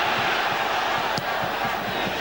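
Dense roar of a 50,000-strong stadium crowd at a 1991 Chile versus Argentina football match in Santiago's National Stadium during torrential rain, a steady wall of cheering and chanting throughout.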